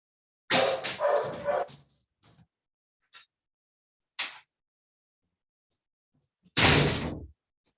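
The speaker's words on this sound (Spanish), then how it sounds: "se mete mucho aquí el ruido de un perro" A dog barks outside a window in a few short bursts, some faint and distant, alongside a door or window sliding shut with a sharp clack; no voices.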